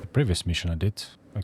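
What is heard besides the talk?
None of the usual background noises is heard.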